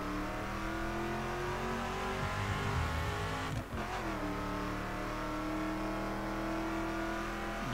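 A '68 Charger R/T, a 4,000 pound car, climbing uphill in The Crew, its engine roaring loud and constant, with a brief gear-change dip midway before pulling on, no voices.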